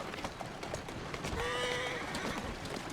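A horse's hooves clip-clop in Assassin's Creed Syndicate: a steady series of soft, fairly faint hoofbeats, with a brief whinny-like tonal sound in the middle, and no talking.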